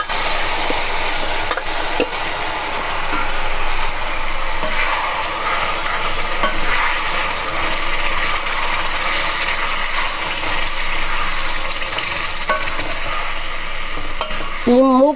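Gongura leaves and dry fish curry stirred in an iron kadai, a loud continuous sizzle with constant scraping and rattling of the spatula, close and unbroken throughout.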